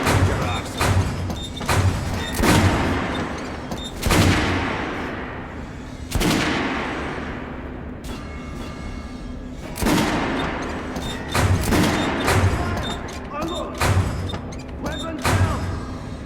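Kalash assault rifle fire in the shooter game Metro Redux rings out as loud, sharp bursts and single shots with booming echoes, spaced irregularly across the clip.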